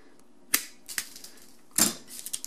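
Cutters snapping through braided electrical wires during a dishwasher installation: a few loud, close, sharp clicks and snips spaced irregularly, with no talking.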